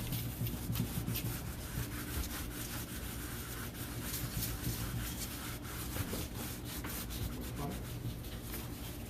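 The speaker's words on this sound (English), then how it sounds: "see how you want to apply it fairly quickly in a rubbing motion" Finish is rubbed quickly by hand onto tooled leather carved with horses. The steady scratchy rubbing strokes run continuously, close and soft, with no speech.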